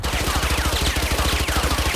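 Rapid gunfire in the tactical shooter Valorant, a fast, steady burst of repeated shots filling the whole stretch at close range, loud and dense with no talk over it.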